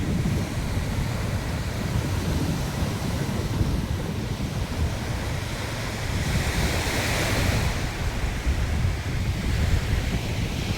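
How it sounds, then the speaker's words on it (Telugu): Steady roar of ocean waves washing in continuously, with gusty wind buffeting the microphone and a swell of surf building partway through. "చుట్టూ సముద్రమే"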